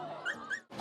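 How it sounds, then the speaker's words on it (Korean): Dogs at a dog sports competition in Seoul, with a brief dog whimper or yip amid crowd ambience, heard faintly over a short span. "강아지들이 주인의 구령에 맞춰 장애물을 뛰어넘습니다."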